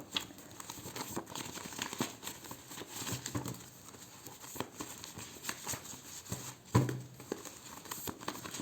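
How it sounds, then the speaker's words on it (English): A 108-card tarot deck is shuffled close by, its cards riffling and rustling in soft, quick crinkling bursts with a sharper knock near the end. "The next one is my duality deck. It has 108 cards, just a quick extra shuffle again."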